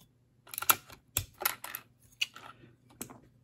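A handful of separate, sharp clacks and clicks sound as keys on a keyboard fitted with lubed Cherry MX Blue switches are pressed, irregular and close, with short silences between them and no talking.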